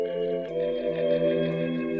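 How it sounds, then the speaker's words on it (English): A sustained SKY Keys reverse tone piano preset with stacked harmonics holds steadily for about two seconds, moderately loud and alone, with a soft, slightly swelling texture. "Then we have reverse tone piano."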